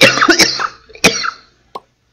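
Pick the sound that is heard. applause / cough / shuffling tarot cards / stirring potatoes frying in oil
cough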